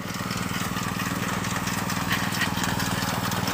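A rice harvesting machine's engine runs steadily in a paddy field, a continuous mid-pitched drone at close range with an even, unbroken level throughout.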